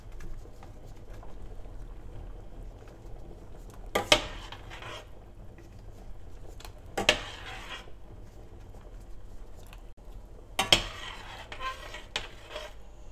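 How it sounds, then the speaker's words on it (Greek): Stirring a pot of boiling water with a spoon, then dropping pelmeni dumplings in, with a low simmering bed broken by three or four sharp metallic clinks and splashes spaced a few seconds apart. "κάνω αυτό εδώ, το αναμεστρόβιλο και θα αρχίσω να ρίχνω τα πυλμένη."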